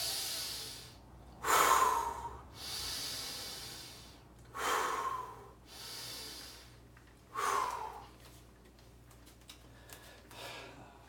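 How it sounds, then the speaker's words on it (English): Three deep, loud breaths come in a slow, evenly spaced series with quiet gaps between them, taken in preparation for a Romanian deadlift. Each breath is a broad, noisy rush of air, and no one speaks. "First I'm gonna breathe. For this time it's just gonna be 3 breaths."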